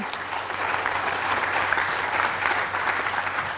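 A studio audience at a Georgian literary quiz show gives a contestant a steady burst of clapping that stays dense and even from start to finish, with no talking over it.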